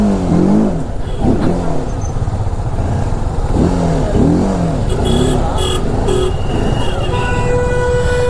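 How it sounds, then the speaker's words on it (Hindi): A car climbs a steep mountain road from Kachidham toward Mukteshwar with traction control off, its engine droning and revving in repeated rising and falling swells, loud and close, while people talk over it. "तो यहाँ से बढ़ा रहे हैं गाड़ी"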